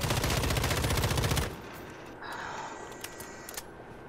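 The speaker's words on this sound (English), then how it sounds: "Look, I'm shooting a tree." Video game gunfire aimed at a tree, a loud rapid burst of automatic shots lasting about a second and a half, followed by quieter game ambience and a few faint clicks.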